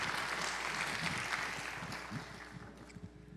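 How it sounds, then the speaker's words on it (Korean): A young adults' congregation at a Sunday church service applauds together, a dense wash of clapping that holds steady and then gradually thins and fades out. "우리 하나님께 영광의 박수 올려드리겠습니다"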